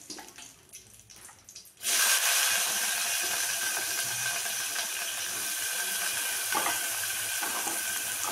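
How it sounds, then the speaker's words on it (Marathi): After a quieter start, chopped onion hits the hot pan with a sudden loud hiss, then fries in a steady, close sizzle for several seconds. "तर कांदा पण थोडासा फ्राय करून घेऊया आपण."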